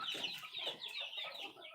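A chicken clucks in a quick, nervous series of nearby calls, repeated without pause and heard on its own.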